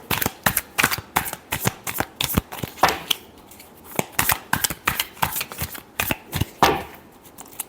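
Tarot cards shuffled by hand in a rapid run of crisp riffling slaps and flutters, close and fairly loud, with brief pauses between bursts and no talking.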